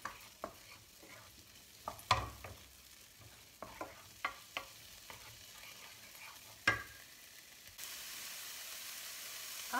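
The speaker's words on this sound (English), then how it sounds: "I want to cook the mushrooms off a little bit more first" Mushrooms for a zucchini pesto pasta cook in a pan, a soft steady sizzle broken by repeated scraping strokes and taps of a utensil against the pan, with no talk.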